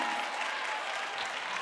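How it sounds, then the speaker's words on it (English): Steady applause from a game-show audience after a winner is called, a dense even wash of many hands clapping throughout with no pauses. "Give a round of applause, guys"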